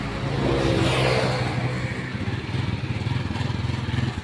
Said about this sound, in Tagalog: Malakas yung motor.